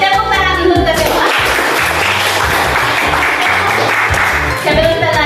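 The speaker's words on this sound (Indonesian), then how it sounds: "Tepuk tangan untuk kita semua." A classroom of students claps together in a loud, sustained round of applause, dense and continuous from start to finish.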